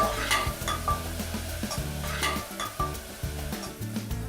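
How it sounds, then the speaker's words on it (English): Onions sizzle gently in a pan over a low flame while a spoon stirs and scrapes them in a steady rhythm of clanks, with no talk over it. "You need to keep turning the onions till they are golden brown in color on a low flame"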